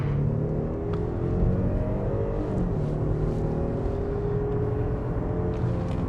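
A Genesis EQ900 Premium Luxury sedan accelerates hard, heard from inside the cabin as a steady, full engine drone with rising tonal whine, constant and loud throughout with no pauses.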